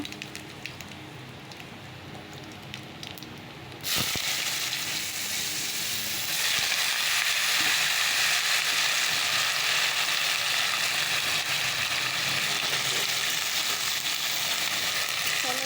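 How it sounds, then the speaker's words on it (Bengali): Sliced snake gourd sizzles loudly in a hot wok, a quieter crackle first, then a sudden burst of steady, bright frying hiss that carries on without pause. "চলো চিচিঙ্গাটা ভেজে নেব"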